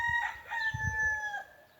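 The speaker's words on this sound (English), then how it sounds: "Man, those chickens." Roosters crow nearby in drawn-out calls, with short clucks and fowl noises mixed in, no voices present, at a plant nursery in Warkworth, New Zealand.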